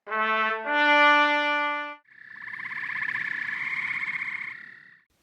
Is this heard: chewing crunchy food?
no